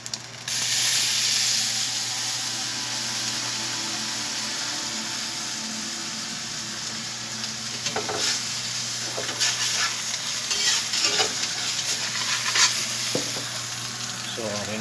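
Lucky Me instant noodles frying in oil give off a steady, close sizzle with occasional stirring scrapes and crackles throughout, no one speaking.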